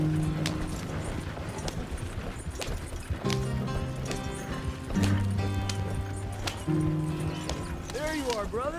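Galloping horse hooves in Red Dead Redemption 2 keep up a rhythmic clip-clop beneath background music, with a brief whinny and people talking over the ride.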